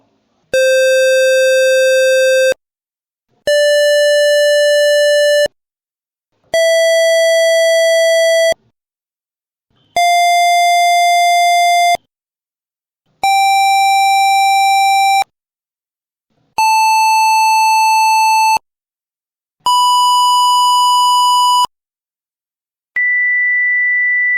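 A series of steady electronic beeps from a distance-sensing device, each about two seconds long with short gaps, stepping gradually higher in pitch as it nears a wall, ending on a clipped higher tone.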